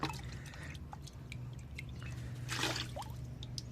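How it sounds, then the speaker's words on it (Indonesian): One liter of water is poured into a bucket while mixing feed, a soft splashing trickle with scattered drips that swells into a brief louder gush near the end, heard alone at low level over a steady background hum. "Ini airnya 1 liter ini kita tuangkan dulu ke ember."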